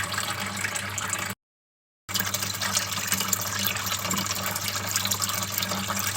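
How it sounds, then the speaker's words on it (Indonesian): Water drains from a turtle tank in a steady, close, trickling rush with a low pump-like hum beneath it, interrupted by one brief dropout before the flow continues evenly. "ini airnya juga kita mulai kuras ya, jadi kita kurangi"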